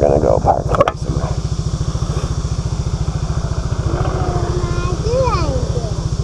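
A SYM 400cc big scooter engine runs with a steady rhythmic pulsing throb, heard close throughout and overlapped by people talking.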